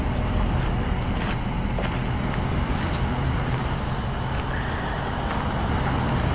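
A truck engine idles steadily at night in a remote spot, a continuous low rumble that stays loud and even throughout, with faint background noise and no speech.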